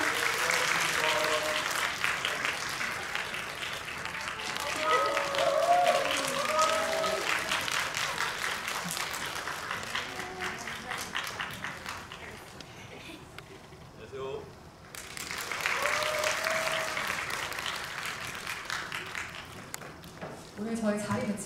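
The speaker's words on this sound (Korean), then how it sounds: "박수 부탁드립니다." An audience at a film talk event gives sustained applause, a broad wash of clapping that swells, dips, then rises again, with a voice speaking over it in places.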